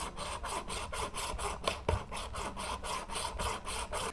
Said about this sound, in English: we will just saw this here off, and that will get a little bit loud